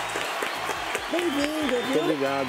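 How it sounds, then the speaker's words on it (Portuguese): Audience applause for chef Cleiton César on a Brazilian morning talk show, a steady wash of clapping running throughout while someone speaks over it. "Cadê os aplausos dele"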